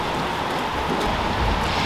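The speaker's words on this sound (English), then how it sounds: "there's no sign that the rain is going to let up" Steady rain during a thunderstorm in Stykow, Poland, a dense continuous hiss of falling drops heard up close, with no distinct thunder cracks.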